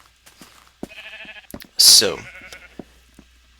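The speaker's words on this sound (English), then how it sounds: "Oh, sheep. Lots of sheep." Sheep in a Minecraft game give a few short bleats close by, with the loudest bleat in the middle, mixed with brief speech and soft clicks.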